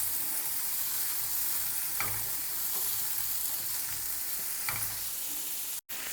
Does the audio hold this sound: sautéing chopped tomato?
yes